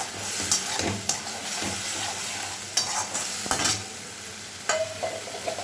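Turmeric and Kashmiri chilli powder stirred through hot oil in a pan, with a steady close sizzle and scattered scraping knocks of the spoon against the metal, no voices.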